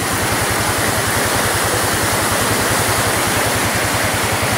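Rushing floodwater pours through a stream in Lulinghayaw Nature Park, Zamboanga Sibugay, after heavy rain, a loud, steady broadband roar close by with a faint low pulsing underneath, continuous and without voices.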